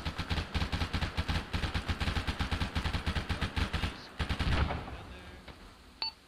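Sustained rapid automatic gunfire in Arma 3, loud and close, with evenly spaced rattling bursts, a brief pause, then a heavier cluster of shots before it tails off into quieter distant pops.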